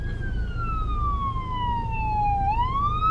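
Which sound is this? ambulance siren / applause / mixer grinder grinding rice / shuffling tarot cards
ambulance siren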